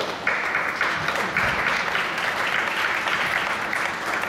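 An audience applauds at the unveiling of the Ford Evos concept car, dense sustained clapping from a large crowd, loud and steady throughout with no speech.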